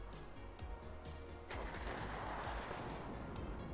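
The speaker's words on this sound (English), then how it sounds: "Artillery being used to try and damage some of those tanks" Artillery fire in the WARNO wargame, a sequence of muffled distant booms followed by a sustained heavy rumble as shells land, with no talk over it.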